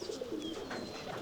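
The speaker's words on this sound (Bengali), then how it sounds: "চলেন অন্য খাঁচার কবুতরগুলো দেখি।" Racing pigeons at a pigeon farm give soft, close, continuous cooing with no voices.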